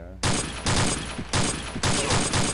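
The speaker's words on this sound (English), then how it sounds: "Someone just took a pot shot at me." Gunfire in the Day of Defeat realism mod: sustained bursts of loud, close automatic fire in three or four rapid runs, each cut by a short gap.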